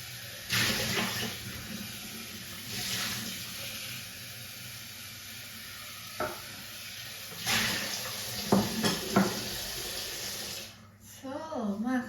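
Tap water runs steadily over vegetables being washed in a sink for a spicy Thai pounded bean and shrimp salad, with splashes, light clattering and someone speaking near the end.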